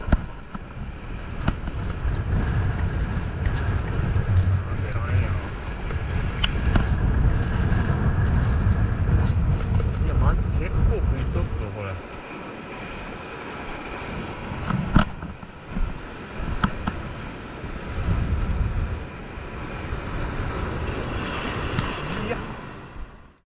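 Strong northwest wind on a rocky sea coast during a seabass fishing outing, a steady loud roaring buffet against the microphone mixed with surf, easing briefly midway then returning.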